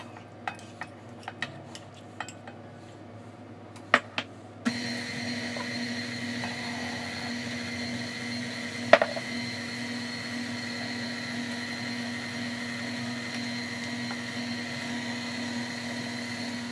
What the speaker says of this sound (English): Pulled out my trusty mixer and we're going to get this mixing.